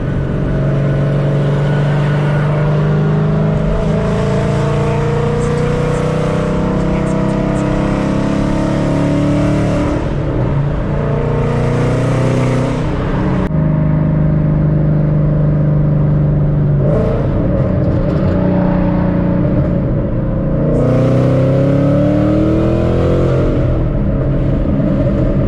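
A car engine revs and pulls hard through several gear changes while merging onto an interstate, loud and close from inside the cabin, pitch climbing then dropping at each shift.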